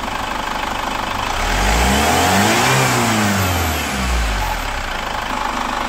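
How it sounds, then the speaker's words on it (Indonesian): Chevrolet Captiva FL AWD diesel engine, which has trouble starting and pulls heavily, revving up to about 4000 RPM and settling back; a loud, close, steady engine roar with a rising then falling pitch. "Coba sampai RPM 4000."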